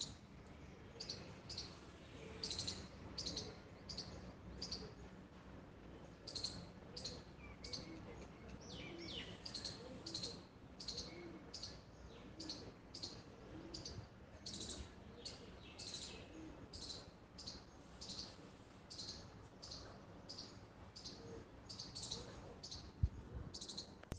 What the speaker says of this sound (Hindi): सुबह पक्षियों की चहचहाट सुनते ही